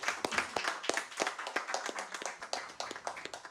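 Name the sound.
audience applause for the panelists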